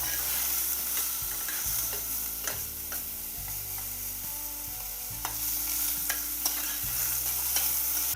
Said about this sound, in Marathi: फ्लॉवर टाकत आहे आणि फ्लॉवरही भाजून घेते.